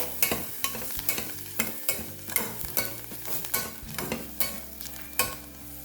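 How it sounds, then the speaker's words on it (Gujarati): Spices for undhiyu pulao sautéing in a pan on a slow flame, with repeated scraping and clattering stirs over a soft sizzle, at an uneven rhythm and no voices. "મિક્સ કરી અને એકથી બે મિનિટ માટે આપણે એને સાતળી લેવાનું છે"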